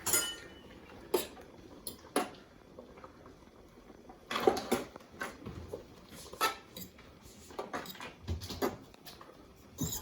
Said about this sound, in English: give my pasta a stir